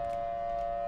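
A Siren Head creature in a horror video game lets out a loud, steady, droning siren wail that holds one sustained tone throughout.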